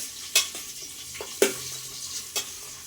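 Sliced onions dropped into browned biryani masala in a pressure cooker, giving a soft sizzle with a few sharp clinks of a spoon against the metal.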